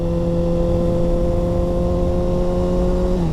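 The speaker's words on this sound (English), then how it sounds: "I haven't been on a sport bike with an exhaust in a while." 600cc sport bike with an aftermarket exhaust, heard while riding on a wet road: a steady loud engine drone with strong tonal hum, easing slightly at the end, no talk.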